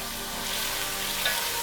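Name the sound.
stirring vegetables frying with ginger, garlic and turmeric paste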